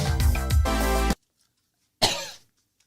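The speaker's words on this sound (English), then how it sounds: "How am I coughing? It's not even a real cigarette." A person coughs after smoking a fake cigarette: a loud, close burst of rough coughs lasting about a second, then a pause and one more short, sharp cough.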